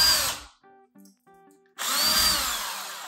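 Power drill with a 1/4-inch bit boring into an old plaster-and-lath wall, a loud grinding whine in two bursts separated by a short pause with a faint motor hum.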